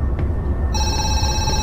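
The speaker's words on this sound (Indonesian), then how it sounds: "Ada telepon, teman-teman ya, kita siapkan dulu ini, kita angkat ya." A telephone rings in the Zoochosis video game, a steady electronic ring that starts partway through and continues to the end over a low background rumble.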